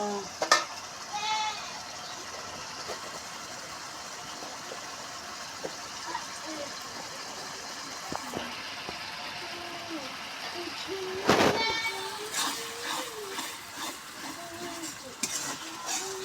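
Ground spices sauté in a pan while a spatula scrapes and stirs them, a soft continuous sizzle broken by occasional louder clinks, with a faint voice in the background.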